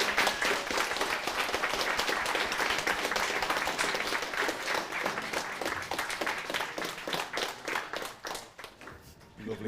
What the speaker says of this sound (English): If you can all join me with a warm applause, show some love for Kevin Lee